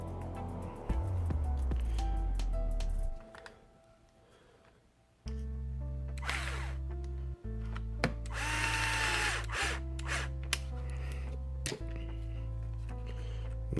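A cordless power drill drives a screw into an RC car's rear differential case, whirring in several close, loud bursts separated by short pauses, with a lower winding-down hum between runs.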